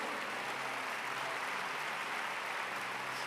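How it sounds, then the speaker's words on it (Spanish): Church congregation clapping together, a steady dense wash of applause filling the room throughout with no voices standing out. "dale fuerte ese aplauso al Señor."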